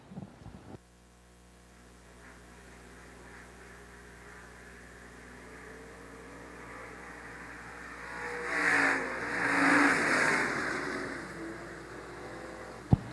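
Stock cars roar past on a short-track backstretch at Shelby County Speedway, engines swelling from a steady distant drone into a loud close rush midway before easing off again, with no talk over it.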